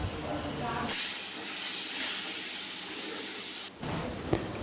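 Garlic paste and a cup of sugar fry in a hot pan for mango pickle, making a loud, steady broadband sizzle that carries on for several seconds, then briefly dips before resuming.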